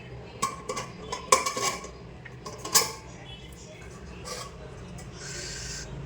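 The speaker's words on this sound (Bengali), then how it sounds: "বাসন তো কন্টিনিউ মেজেই যাচ্ছি, শুধু কড়াই আর খুন্তিটা বাকি আছে।" Dishes, pots and pans being scrubbed and rinsed in a home kitchen, with scattered clinks and clatters of metal utensils, several sharp knocks early on, then softer scraping and running water.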